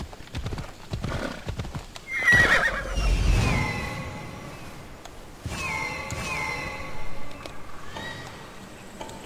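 Horse galloping in the video game Assassin's Creed Odyssey, with quick rhythmic hoofbeats, a loud whinny partway through and continued clip-clop afterward, close and clear over a faint game backdrop.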